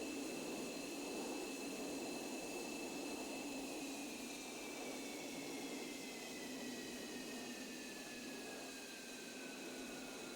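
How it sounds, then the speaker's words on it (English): A jet engine winding down in a flight simulator game, the left engine spooling toward idle: a loud, steady roar with whining tones that slowly fall in pitch over about ten seconds, with no voices. "I'm hearing the distinct sound of an engine shutting down."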